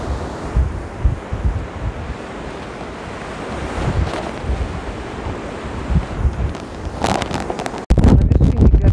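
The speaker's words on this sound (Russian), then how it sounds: "какой ветруган и как шумит ветер в таких вот" Squally storm wind roars through bushes on a hilltop above Dvuyakornaya Bay, a loud, gusting rush with heavy buffeting on the microphone that surges sharply near the end.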